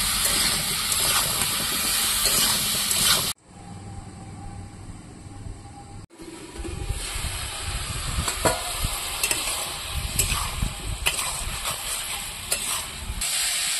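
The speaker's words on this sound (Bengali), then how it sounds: "ওলকপি আর আলু একসঙ্গে আমি ভালো করে ভেজে নিচ্ছি।" Kohlrabi and potato fry together in a pan for a village-style home dish, giving a loud, steady sizzle with stirring scrapes and clatters; the sizzle drops to a quieter hiss for a few seconds midway, then returns.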